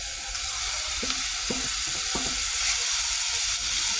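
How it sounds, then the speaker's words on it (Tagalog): Squid added to a hot pan with onion and a little soy sauce for Filipino adobo, cooked over high heat, gives a steady close sizzle with a few soft stirring knocks, alone without talk. "Lagyan na natin yung pusit."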